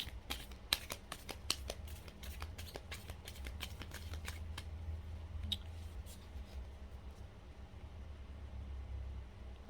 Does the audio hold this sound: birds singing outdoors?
no